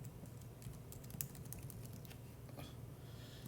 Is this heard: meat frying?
no